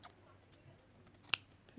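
Scissors snipping excess napkin paper while a napkin rabbit is being made, a single sharp close cut in a quiet room with faint handling noises around it.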